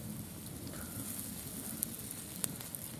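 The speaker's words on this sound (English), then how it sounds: "Okay, so the sausages are on." Apple and pork sausages frying on a camp stove give a soft, steady sizzle with a couple of sharp pops and crackles, quiet and close with no one speaking.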